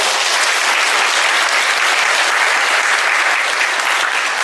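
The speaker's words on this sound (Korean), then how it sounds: "박수 부탁드리겠습니다" Applause from a church congregation at a parish committee appointment ceremony at Mangmi Catholic Church, a dense, even roar of many hands clapping at once, loud and unbroken for several seconds.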